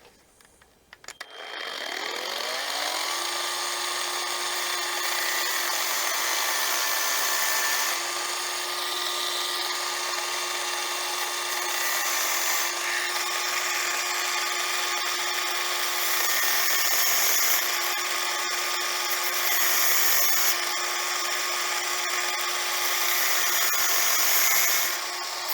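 Power tool rounding the corners of a homemade steel hose pinch clamp plier for small engines, a loud, sustained high-pitched grinding whine that spins up and holds steady, with slight shifts in pitch as the metal is worked.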